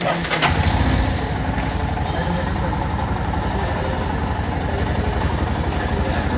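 Royal Enfield motorcycle engine idling at a service center in Hyderabad, a steady low rumble running throughout after a louder burst at the start, with someone talking over it.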